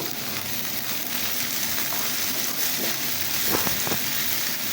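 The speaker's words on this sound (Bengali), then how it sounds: "এখন আমি এগুলা ভেজে নিব" Spices sizzling steadily in hot oil in a pan while cooking jute leaf greens, a continuous close frying hiss with a few brief stirring clicks toward the end, no voices.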